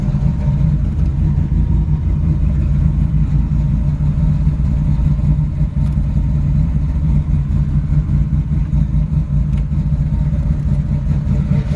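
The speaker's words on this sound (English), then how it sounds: "Awesome sounding exhaust." A 1972 Chevrolet Camaro engine runs with a deep, loud, steady exhaust rumble close by, holding an even idle with slight pulsing and no clear revs.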